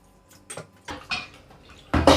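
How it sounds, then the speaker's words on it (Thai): Mangoes are washed in water to rinse off limewater, with clattering bowl knocks and splashing in several separate bursts, close and fairly loud, ending in a heavier slosh. "ตอนนี้เราก็จะเอามะม่วงล้างเพื่อเอาล้างเอาน้ำปูนใสออกนะคะ"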